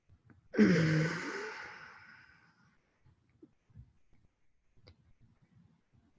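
A single deep breath drawn in and slowly let out, close and fairly soft, fading over about two seconds, followed by near silence with faint small clicks.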